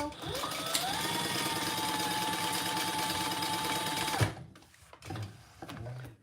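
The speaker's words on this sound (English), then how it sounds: "Let me sew this bottom piece on." A sewing machine stitches the bottom piece onto a Monarch Mini bag, running a steady, close, rapid rhythmic whir for about four seconds before stopping, followed by faint handling sounds.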